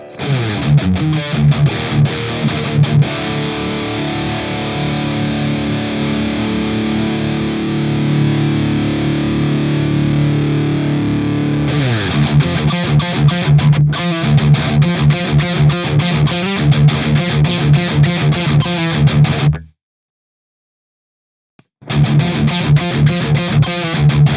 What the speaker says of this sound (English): we have the OD2 channel, which to me sounds the same but has more gain